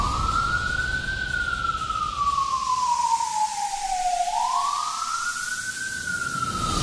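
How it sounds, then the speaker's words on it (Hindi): A police jeep's siren wails loudly across a village, one long tone sweeping slowly up and down in a continuous wail. "तभी वहां सायरनक आवाज गूंजने लगी और पुलिस की गाड़ी आई"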